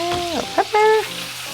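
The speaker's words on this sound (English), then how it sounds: "They're sizzling away." Shrimp seasoned with salt and pepper sizzle in a frying pan, a steady, close crackle running underneath a few brief, squeaky tonal sounds.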